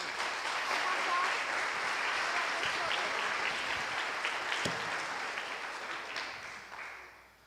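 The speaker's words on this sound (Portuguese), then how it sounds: "Aplauda" A church congregation claps together during a priest's homily, steady and fairly loud throughout, fading out at the close.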